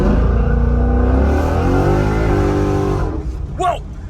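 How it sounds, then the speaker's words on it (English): A Ford Mustang GT engine revs hard and roars as it launches, the pitch climbing through the gears, loud and close, then fades as tires squeal briefly. "So left foot on brake, a couple of revs,"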